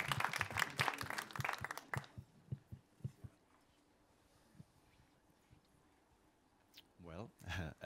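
Audience at a music pitch session at the Les Arcs Industry Village applauds in a dense burst that lasts about two seconds and then thins to a few scattered claps before a voice begins.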